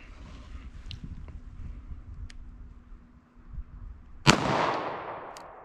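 A single sharp gunshot from a Taurus .38 Special revolver firing 158 grain ammunition at 50 yards outdoors, a loud crack followed by a decaying echo after quiet wind noise.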